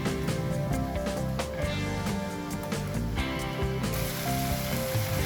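Tomatoes with coriander, mint leaves, turmeric powder and salt sizzle and fry steadily in a pan, with a continuous crackle and music playing underneath.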